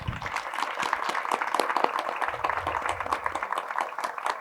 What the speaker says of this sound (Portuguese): Quem gostou, por favor, uma salva de palmas para o livro.